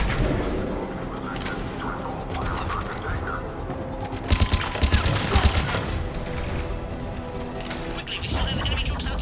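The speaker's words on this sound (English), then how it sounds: "we have Cerberus troops at the checkpoint. They're targeting the Krogan. The checkpoint! It's under fire!" Gunfire from Cerberus troops attacking a checkpoint in the game Mass Effect Legendary Edition, with sustained crackling shots and a cluster of heavier bangs midway, over dense battle noise and faint voices.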